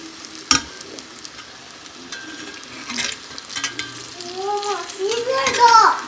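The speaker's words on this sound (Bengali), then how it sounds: "বড়ার এক পাশ ভাজা হয়ে গেছে এবার উঠে দেব দেখুন বেশি তেলও লাগলো না" Lentil fritters (bora) fry in a pan with a little oil, giving a steady close sizzle with scraping and stirring knocks, while a voice chatters briefly toward the end.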